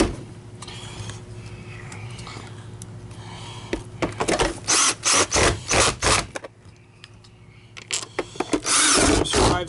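Power drill driving screws into an Oreck XL 21 Platinum U7000 upright vacuum during repair, a series of short whirring bursts with pauses between them after a quieter stretch of handling noise.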